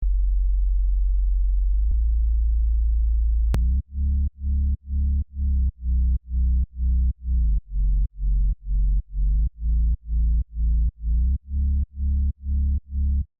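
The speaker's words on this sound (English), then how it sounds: "Here is the preview of sub-bass." A deep, pure sub-bass synth tone for progressive house, made in FL Studio, sustains alone, then pulses in a steady rhythmic pattern of short, even notes, clean and loud.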